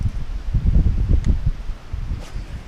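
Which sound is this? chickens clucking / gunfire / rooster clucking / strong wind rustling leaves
strong wind rustling leaves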